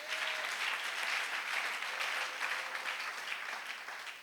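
A church congregation applauds to acclaim God during a sermon, a dense sustained wash of clapping that holds steady for several seconds and eases slightly at the close.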